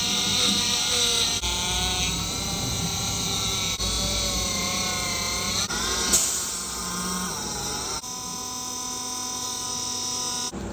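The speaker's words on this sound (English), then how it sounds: "Then time to carefully Dremel here." A Dremel rotary tool cuts through the plastic and metal of a toy ghost trap connector, giving a steady high-pitched whine that runs close and loud throughout, shifting slightly in pitch as the cut progresses.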